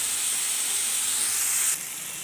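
Bitter gourd sizzling as it fries in a home kitchen, a steady, loud, close hiss that drops slightly in level near the end.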